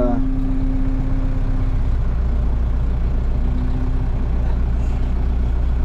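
A Case CS 94 tractor engine runs steadily, heard loud and close from inside the cab with the partition between engine and cab removed, a constant low drone with a brief whine.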